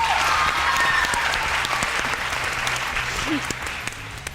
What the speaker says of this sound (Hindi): सो अपने लिए भी तालियां होनी चाहिए।